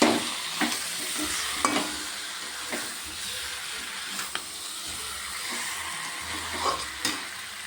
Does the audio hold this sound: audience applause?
no